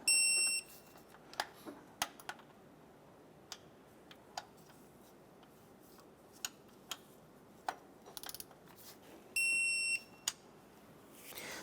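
A torque wrench tightens bolts to 16 foot-pounds during a right front engine mount replacement on a 2008–2012 Honda Accord. It gives two bursts of fast ratcheting clicks at the start and end, with scattered single sharp ticks between them.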